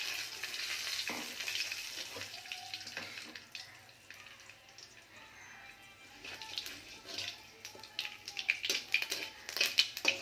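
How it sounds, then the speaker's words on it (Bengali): Mustard seeds and a dried red chili crackle and fry in a small amount of hot oil for a Bengali fish curry, with a steady close sizzle rising into sharper spattering pops toward the end. "সর্ষে আর একটা শুকনো লঙ্কা ফোড়ন দিলাম।"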